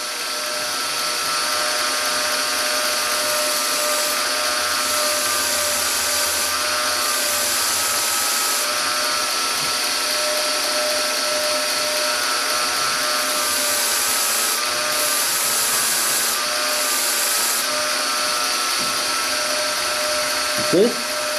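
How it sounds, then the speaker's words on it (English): A grinder runs continuously while grinding removable knife handle scales sideways, a loud, steady whine holding for the whole stretch with small shifts in pitch as the work is pressed. "just like you're grinding a blade, except now we're doing it sideways."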